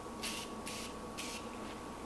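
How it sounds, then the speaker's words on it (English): Makeup setting spray misted onto a brush, three short hissing bursts of spray close up, each about a quarter second long, separated by brief pauses over a quiet background hum. "I'm going to take a little bit of my setting spray and spray it on my brush"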